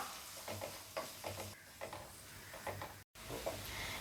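Chopped onions sautéing in oil in a pan for an Indian-style macaroni, a soft continuous sizzle broken by repeated scraping stirs at close range, with a brief dropout near the end.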